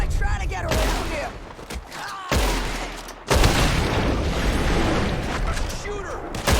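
Heavy gunfire from a Red Dead Redemption 2 shootout at a hayloft, with dense overlapping shots and booms running nearly continuously and loud, while voices shout over the fighting.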